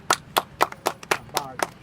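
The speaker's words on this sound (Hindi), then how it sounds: "तो पहले ताली बजा लेते एक दूसरे की।" A small group of four people at an adolescent education workshop claps together, about eight quick, rhythmic claps over a faint background, moderately close.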